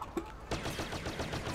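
Rapid blaster gunfire from a probe droid hitting a turret in the Star Wars Battlefront video game rattles in a quick, dense burst of repeated shots at moderate loudness.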